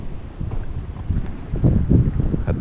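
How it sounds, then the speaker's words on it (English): Strong wind gusting across a farm during a dust storm, a steady low rumble of buffeting microphone noise that swells louder toward the end, with no talking. "So windy."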